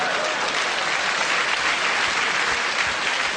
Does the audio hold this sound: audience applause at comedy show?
yes